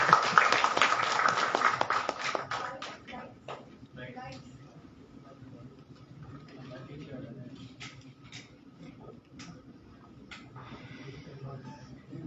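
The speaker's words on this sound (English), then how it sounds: "show our appreciation with a warm round of applause" An audience applauds at the launch of a neonatal critical care nursing training initiative; clapping is loudest at the start, then thins into scattered claps under a low background murmur.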